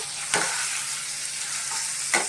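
Potatoes and pointed gourd, seasoned with chili powder and a little sugar, fry in a pan with a steady close sizzle, broken by two sharp scraping stirs near the start and end.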